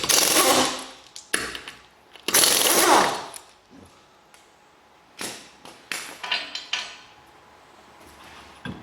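Wheel coming off an Opel Astra during a timing belt job: several loud, close bursts of metallic clanking and mechanical whirring separated by short pauses, with softer clicks and rattles toward the end.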